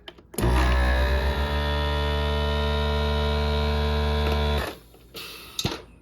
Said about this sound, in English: I'm going to turn on my vacuum sealer.